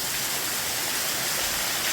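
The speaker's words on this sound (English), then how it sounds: "That's the big waterfall right in the middle. And that thing is just gushing down" A big waterfall gushes down into a catch basin inside a large cave, producing a loud, steady, dense hiss of rushing water with no pauses and no voices.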